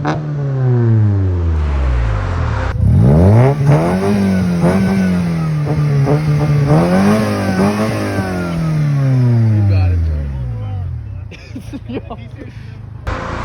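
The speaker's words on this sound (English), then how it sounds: "it's an actually decent sounding exhaust, especially at Redline" A 1993 Honda Del Sol Si with a D-series engine and a full Skunk2 cat-back exhaust revs hard, rising and falling in pitch as it climbs toward redline, loud and close throughout.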